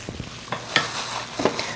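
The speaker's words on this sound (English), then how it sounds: "I'm going to use my hand to mix it because it's difficult with the spoon." Chapati dough being mixed by hand in a bowl, giving soft, irregular squelching and pressing sounds close to the listener.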